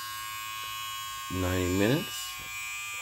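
A Ufree rechargeable electric beard trimmer switches on briefly, giving a short, close buzzing whine of about half a second under a man's speech.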